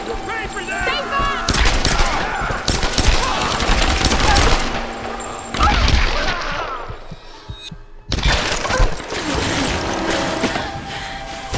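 Bursts of rapid gunfire and shots in the Tomb Raider game, loud and repeated in clusters with brief pauses, mixed with game sound effects and voices.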